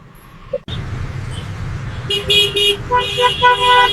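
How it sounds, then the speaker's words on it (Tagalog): An e-bike rolls up from behind on a road in Quezon, Philippines, under a steady low traffic rumble, then sounds a loud series of repeated horn toots close by. "Nako, may e-bike sa likod."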